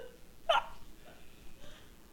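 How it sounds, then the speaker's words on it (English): A single sharp, close hiccup from a drunk man bursts out, followed by fainter breathy sounds in a quiet room. "Might as well interview your fucking hiccups."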